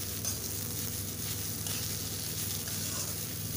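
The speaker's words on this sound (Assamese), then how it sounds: "কল পচলাখিনি দি এখিনি ভালদৰে লৰাই দিম" Plantain frying in a pan, a dense, steady sizzle held close and fairly loud throughout, with faint stirring movement underneath and no talk.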